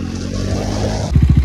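A motorcycle engine running close by on a snowy night road, a steady low rumble that turns into a throbbing, pulsing putter near the end.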